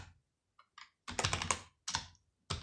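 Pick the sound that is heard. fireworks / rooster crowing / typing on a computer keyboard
typing on a computer keyboard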